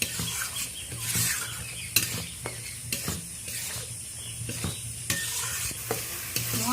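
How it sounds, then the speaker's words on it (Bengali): Ground spices frying in oil in a pan while being stirred for a spicy tengra fish chorchori, continuous sizzling broken by regular scraping strokes and light clinks of the spoon. "এই সমস্ত গুঁড়ো মশলাকে আমি ভালোভাবে কষিয়ে নেব।"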